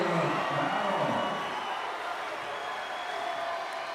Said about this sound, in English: And that awakens the Zags crowd here.